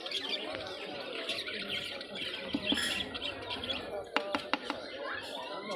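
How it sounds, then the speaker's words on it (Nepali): Parrots and many other birds squawk and chirp continuously in a busy, echoing bird market, with sharp calls standing out over a dense crowd of bird noise and some voices of people in the background. "हाम्रो गाउँतिर सुगा भन्छ नि, धेरै प्रकारको सुगाहरू"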